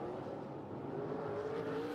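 Race cars in an SRX heat at I-55 Speedway power out of a corner, a continuous loud engine drone holding steady with a slowly rising pitch and no pause throughout.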